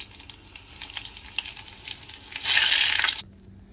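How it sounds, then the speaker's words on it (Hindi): Pizza peri bites fry in hot oil with a steady close sizzle and crackle that swells louder toward the end, then stops abruptly. "ऑयल हमारा गर्म हो गया है, तो अब हम इसको फ्राई करेंगे।"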